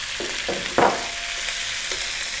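Pork belly fries with garlic and onions in a pan, a steady loud sizzle with a few stirring scrapes and one brief burst as the meat goes in, no talk.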